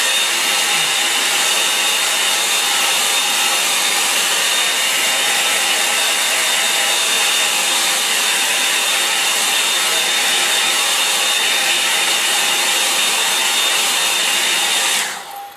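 A hair dryer blows steadily and loudly to dry a wet watercolour painting, a close, constant whooshing roar that runs without a break and cuts off at the very end.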